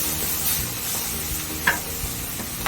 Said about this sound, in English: Look at how brown that bologna is getting already.